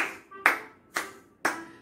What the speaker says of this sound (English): I can clap my hands